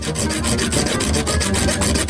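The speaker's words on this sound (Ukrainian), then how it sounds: "Тут треба щось серйозніше. Точно. Пила набагато краще." A hand saw cuts with fast, rhythmic back-and-forth rasping strokes, loud and close. The strokes repeat evenly without a break, and no voices are heard.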